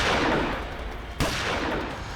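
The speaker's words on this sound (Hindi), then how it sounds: "इसी बीच हम पर गोलियां चलने लगी।" A single sharp gunshot cracks out over a dense, rumbling background of noise, loud and close, with continuous roar before and after.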